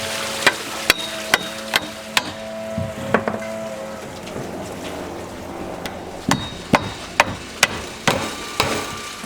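Sharp hammer taps hammering panels into place strike in irregular bursts, some close together and some spaced out, ringing briefly with a metallic edge against a quiet background.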